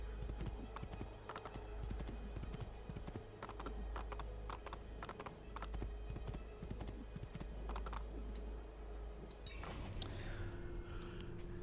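Rhythmic horse hoofbeats clip-clop steadily in Assassin's Creed II, joined near the end by a brief horse whinny over a low background hum.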